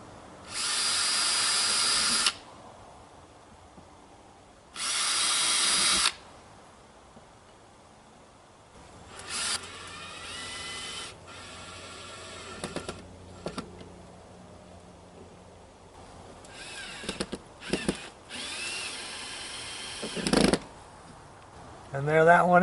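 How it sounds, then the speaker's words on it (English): A power drill bores small screw holes on a fifth-wheel travel trailer for a rear-view camera, two short high whining bursts a few seconds apart, followed by scattered clicks, handling noises and brief tool bursts. "Now it's simply drilling these four little holes and putting the screws in so the camera goes over"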